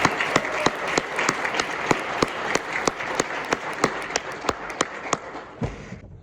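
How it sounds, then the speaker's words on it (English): Audience at a small ice cream social applauding elite scholars, with steady, crisp clapping and some distinct, regularly spaced claps standing out before the sound fades at the end. "Let's give all of our scholars a round of applause."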